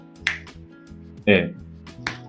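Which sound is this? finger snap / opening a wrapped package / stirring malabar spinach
finger snap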